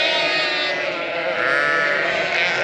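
A flock of sheep on a farm field bleats loudly and continuously. The overlapping calls swell and fade close by with no pause.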